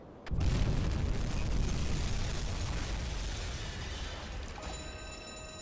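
An acoustic homing torpedo detonates in the submarine game UBOAT with a sudden heavy boom that swells into a long, loud rumble and slowly fades, with no voices present.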